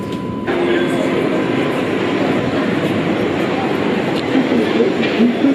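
A Sydney tram rolls toward Circular Quay, a steady loud rumble of wheels on rails from inside the car, with a recorded announcement voice heard faintly over it.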